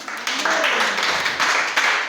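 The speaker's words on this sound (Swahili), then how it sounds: "Tuwapigie makofi mazuri." Applause breaks out at a church gathering, a short burst of clapping from the congregation with voices mixed underneath.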